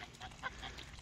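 Goose honking at close range, a few short nasal honks in quick succession over a faint outdoor background, brief and moderately quiet.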